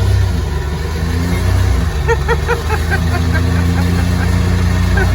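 An abandoned police car with a failing transmission, its engine revving and droning loudly up close while driving, the pitch climbing and holding unevenly as the drivetrain struggles.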